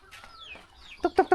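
Chickens cluck close by: a few soft chirping calls, then three loud, sharp clucks in quick succession near the end.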